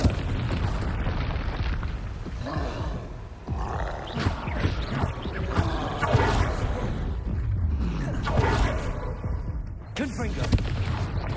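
Confringo spell blasts go off again and again in Hogwarts Legacy during a fight with a hulking brute, a run of booming explosions and pops that pile up across the stretch with battle noise layered underneath.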